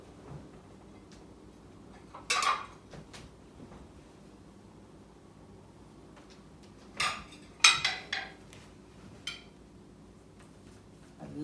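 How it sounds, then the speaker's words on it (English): A bread and butter plate is set down on a table setting, giving a few faint clinks of dishware in a quiet room. "Then I'm going to add my bread and butter plate just right in the middle"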